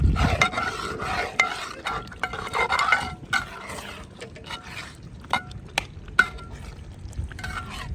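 Buffalo leg curry being stirred and mixed in a pan, a spoon scraping and clinking against the metal with soft sizzling underneath, in irregular close strokes with no talking.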